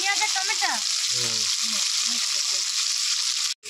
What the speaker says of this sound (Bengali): মাছ ভাজা হয়ে গেছে দেখুন